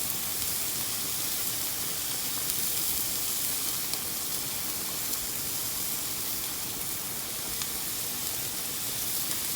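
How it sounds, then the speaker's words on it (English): Scallops sear in a hot pan with a steady, even sizzle and soft hiss, continuous and close, with faint crackles scattered through and no voices. "our scallops are ready to turn and sear the other side"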